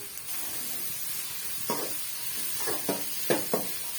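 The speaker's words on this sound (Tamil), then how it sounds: "நல்லா வந்து வெங்காயம் வதங்கி வர வரைக்கும் நம்ம வதக்கி விட்டுக்கலாம்" A steady sizzling hiss of onions sautéing in a hot pan for a prawn gravy, with a few soft scraping stirs breaking through now and then.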